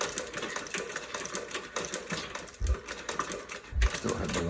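Singer 29-4 boot patcher sewing machine stitching with a tiny stitch length, a steady fast mechanical clatter running throughout, close and fairly loud, with a couple of heavier thumps near the end.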